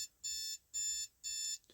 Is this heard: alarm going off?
yes